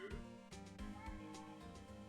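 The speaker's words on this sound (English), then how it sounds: "I don't know if you can hear his morose meowing from back there." Tofu, a pet cat, lets out a few drawn-out meows close by, set against steady background music.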